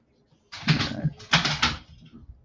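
A pet dog freaking out indoors gives two loud, close bursts of excited yelping and whining, each under a second long, separated by a short pause.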